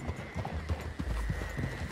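Horse hooves clip-clop steadily in Red Dead Redemption 2, a close, even walking rhythm over a low background of ambience with faint voice-like sounds.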